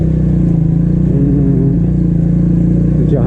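A motorcycle ridden on a dangerous mountain road, its engine loud and close with a steady throbbing mid-pitched drone that holds constant throughout, without speech.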